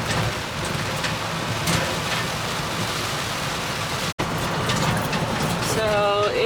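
Steady rain drums on an RV camper outdoors, a dense continuous patter that fills the scene, with brief voices and a short dropout near the end.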